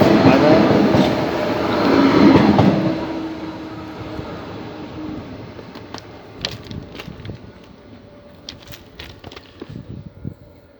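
Train pulling out of Ribes de Freser station toward Puigcerdà, a loud rumbling surge that fades as it moves off, leaving scattered clicks and clacks of wheels and fittings against the quiet station air.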